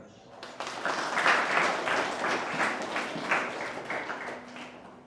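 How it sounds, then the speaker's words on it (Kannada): An audience claps steadily for about five seconds at a STEM teachers' training event sponsored by REPCO Home Finance, with a voice speaking over the dense, fairly close applause. "ಚಪ್ಪಾಳೆ."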